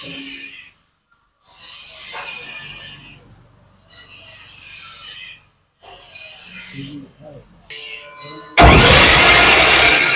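A threshing machine engine made by Japan Engineering Workshop self-starts and roars loudly at the end, after several bursts of mechanical noise separated by pauses, close by.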